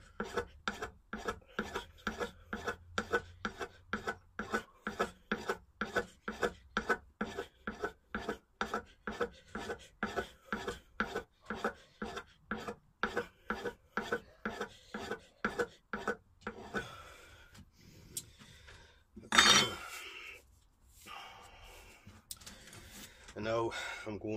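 A chisel is sharpened freehand on a sharpening stone, giving a steady rhythm of many rasping back-and-forth strokes, close and crisp. The strokes give way to a few clatters and handling noises near the end.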